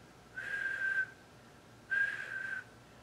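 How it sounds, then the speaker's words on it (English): A person whistles through pursed lips, producing two clear, steady tones of under a second each, separated by a short pause, heard close and alone without any talk. "Now I can whistle."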